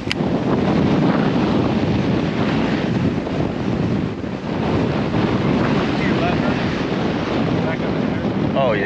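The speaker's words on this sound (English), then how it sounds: "This wind is so strong, it's dragging us." Strong wind buffets a fishing boat on open water, a loud continuous roar of gusts across the microphone with water wash beneath, while someone speaks under it.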